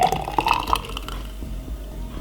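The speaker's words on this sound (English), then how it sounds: "Now we're going to pour it in like this." Thick blended broccoli drink pours into a container with a brief, close gurgling splash that settles into soft trickling.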